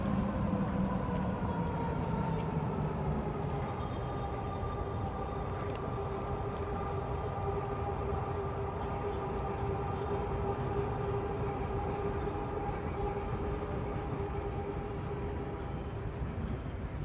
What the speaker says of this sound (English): It's another SkyTrain.